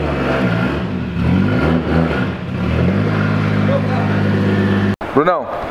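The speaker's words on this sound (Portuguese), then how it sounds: "esse aqui é o carro do Bruno, tá funcionando tudo direitinho" A car's engine runs steadily with a low harmonic hum, then revs sharply near the end with rising and falling pitch sweeps; it sounds close and loud, and speech is likely mixed in.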